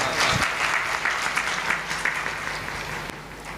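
Audience applause at a religious Shri Ram Katha gathering after tabla playing, a dense burst of clapping from a crowd that gradually thins and softens over a few seconds.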